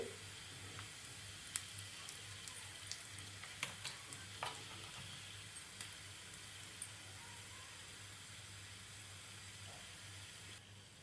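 Chopped garlic and hing powder fry in hot ghee for a dal fry tadka, giving a quiet, steady sizzle with scattered small pops and crackles throughout.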